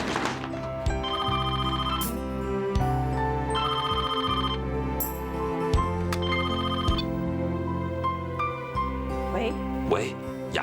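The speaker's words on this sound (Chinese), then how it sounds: "听电话，" An old-style telephone bell rings in repeated bursts indoors, loud and close, with a steady tonal ringing pattern interrupted by short pauses and occasional clicks.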